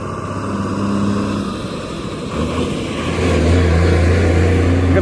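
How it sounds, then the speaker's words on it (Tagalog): Steady engine rumble of dump trucks and passing traffic at a SLEX highway construction site, with a continuous low drone that swells louder toward the end, heard nearby without speech. "mga dump truck."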